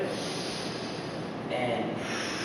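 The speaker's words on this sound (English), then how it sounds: "So deep breath in" A single long, steady breath drawn in through the nose during a slow lying-down back stretch, close and soft, with a breathy hiss throughout.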